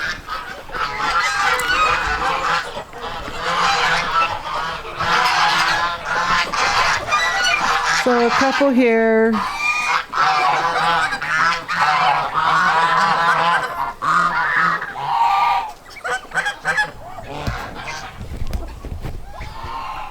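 A flock of penned geese honks loudly and almost continuously, many overlapping calls close by, with a brief spoken remark in the mix.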